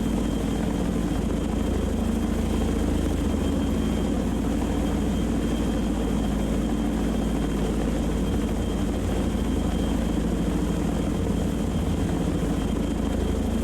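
F-18 jet aircraft in the naval video game Sea Power, heard as a loud, steady engine roar that holds without a break for the whole stretch.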